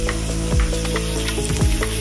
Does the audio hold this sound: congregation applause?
no